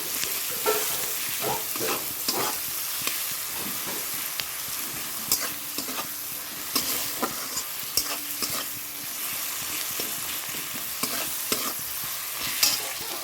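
Rohu fish masala with chilli, cumin and coriander powder is stirred and fried in a pan, giving a steady sizzle broken by repeated scraping strokes of the spatula, close up, with no talking.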